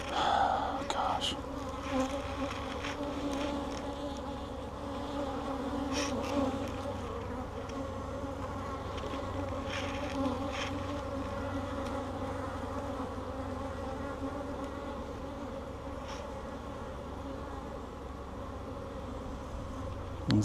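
Honeybees buzz steadily throughout an open hive during an inspection, a dense continuous drone close by with no talk over it.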